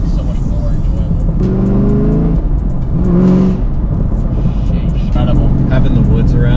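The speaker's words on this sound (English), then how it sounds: "All the different noises, the supercharger, the exhaust, the pops, the manual." A supercharged Chevrolet Camaro ZL1 1LE with manual transmission roars and revs loudly with exhaust rumble and pops, rising and falling as it drives past in woods, with faint voices underneath.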